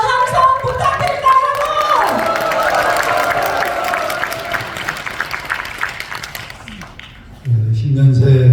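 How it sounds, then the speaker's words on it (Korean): Crowd at a political New Year address in Hongseong, South Chungcheong, breaking into loud sustained applause and cheering, a dense wash of clapping with shouts, dipping briefly near the end before a louder burst of voices. "홍성 국민 여러분, 뜨거운 박수와 함성 부탁드립니다"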